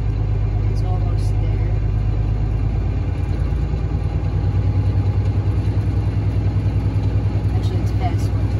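A vehicle engine is held at a raised idle of roughly 1100 to 1300 RPM to build pressure, giving a steady, close, low rumble with a faint pulsing throb that continues unchanged throughout.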